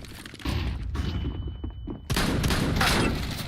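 A flashbang grenade goes off in a first-person shooter game, a sharp close blast with a brief high ringing whine, followed by loud gunfire and chaotic bursts.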